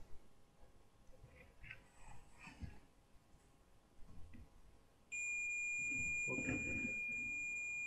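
A multimeter continuity tester beeps while its probes touch a pin of a CP Plus DVR's LAN socket, a steady electronic tone that starts partway in and holds to the end over quiet background rustle.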